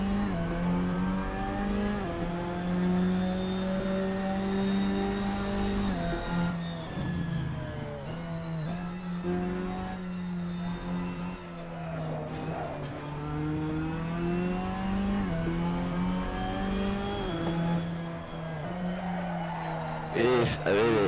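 Ginetta G40 GT5 race car in Assetto Corsa, its engine at full throttle on a circuit, rising and falling through gear changes with a loud sustained whine, one brief skid near the end.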